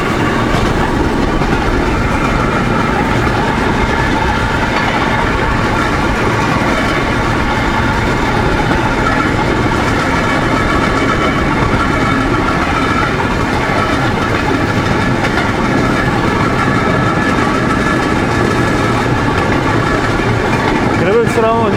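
A small draisine runs steadily along the Alapaevsk narrow-gauge railway, its engine droning continuously and loudly throughout, with a faint rolling clatter over the track.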